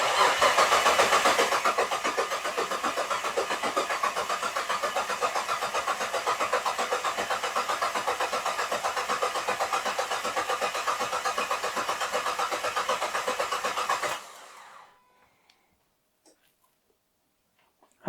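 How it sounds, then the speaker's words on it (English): A Ford Anglia engine cranks over on the starter without firing, a steady, loud mechanical churning held for about fourteen seconds before it cuts off into near silence. "try to crank over the engine and see if we get some oil pressure"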